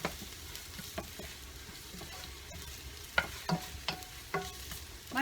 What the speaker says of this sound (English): to cook the ginger first so it releases the flavor